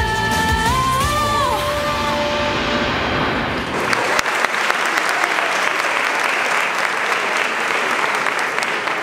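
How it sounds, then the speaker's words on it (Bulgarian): At an awards ceremony, a sung performance ends as the music fades and a crowd breaks into sustained, dense applause that carries on loud and steady to the end. "съвсем заслужени аплодисменти"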